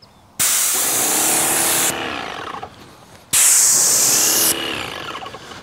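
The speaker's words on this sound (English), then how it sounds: "I'm gonna go ahead and spray this landing platform right here." Polyurethane finish is sprayed onto a wooden stair landing platform in two loud, close bursts of hissing spray, each lasting over a second, with a quieter pause between them.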